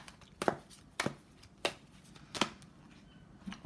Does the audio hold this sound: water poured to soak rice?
no